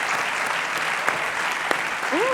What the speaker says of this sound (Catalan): Un aplaudiment per les 3